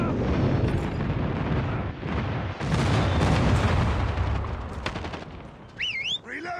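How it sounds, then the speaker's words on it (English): Friendly airstrike in a Call of Duty Mobile team deathmatch on the Shipment map: heavy rolling explosions and bursts of gunfire pile up in a dense roar, then ease off, with a brief whistling sweep near the end. "Friendly airstrike incoming."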